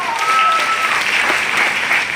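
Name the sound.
applause for a speaker at an event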